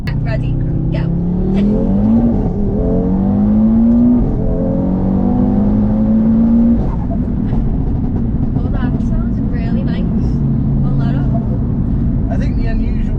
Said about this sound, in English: I think the unusual thing is the turbo flutter.